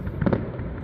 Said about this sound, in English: We have firework display.